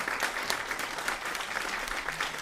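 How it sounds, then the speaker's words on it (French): Applause from an audience at a business conference: a moderate, fairly distant patter of many hands clapping, steady and continuous with scattered louder claps, no talking over it. "Alors, on va faire un applaudimètre."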